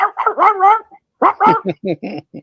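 A dog barks and yips at close range in short bursts, a few quick barks followed by a string of sharper yelps with brief silences between them.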